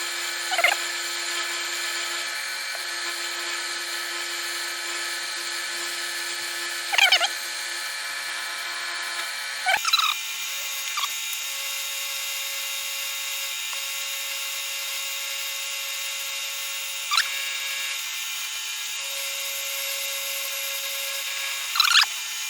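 A milling machine cuts metal with a 4 flute cutter in a home workshop, a steady high whine and hiss running continuously, near and loud, broken by a few short squeals and clicks, with no talk.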